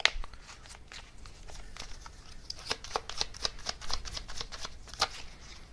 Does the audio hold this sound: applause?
no